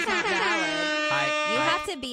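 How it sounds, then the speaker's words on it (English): A loud, blaring air horn sounds in one long continuous blast with shifting pitch, close and dominant. "Hit me with a goddamn air horn one time."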